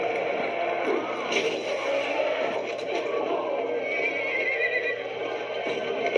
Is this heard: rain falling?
no